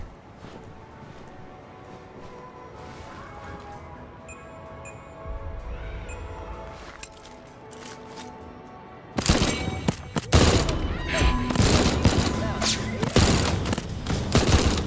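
Pistol gunfire in the video game Deathloop, starting with quieter game ambience and then breaking into a dense, loud burst of rapid shots during the second half.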